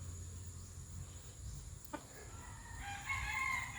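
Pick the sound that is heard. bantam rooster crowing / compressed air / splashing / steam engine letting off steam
bantam rooster crowing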